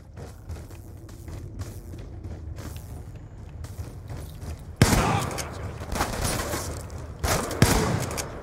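KSG shotgun gunfire in a video game, a loud blast starting mid-clip with rattling shots and another burst near the end, after quieter thumping and movement noise.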